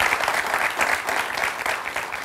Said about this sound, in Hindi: चंदन के लिए जोरदार ताली हम सब लोग बजाएंगे।